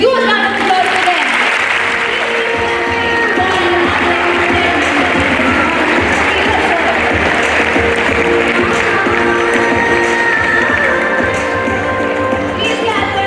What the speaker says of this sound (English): So please give a huge round of applause for them.